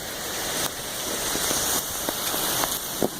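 Thunderstorm rain pours steadily onto a soaked porch, a dense near hiss with a few louder drips and splashes landing now and then, with no voices.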